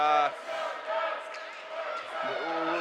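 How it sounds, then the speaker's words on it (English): Crowd commotion at the 2016 PAC-8 Championship hockey game between Washington and Oregon: a steady, dense roar of many voices, with brief tonal shouts or horn-like calls near the start and end. "we're hearing a lot of commotion from both sides"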